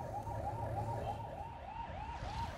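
An ambulance siren wails in a steady repeating rise-and-fall pattern on a busy city road, with traffic rumbling underneath, moderately close and continuous.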